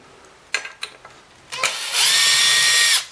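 Screws are loosened from the bottom of a Kirby Legend II vacuum, with a few short clicks and knocks followed by a loud, steady whir of a powered driver spinning close up for about a second.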